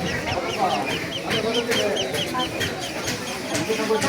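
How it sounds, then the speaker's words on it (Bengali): Chickens and ducks crowd a busy poultry market at Mogra bazaar, with continuous overlapping clucks and squawks close by. Faint voices murmur in the background. "মোগরা বাজার প্রতি মঙ্গলবার এবং শনিবার তো হাঁসের এবং মুরগির বাজার জমে"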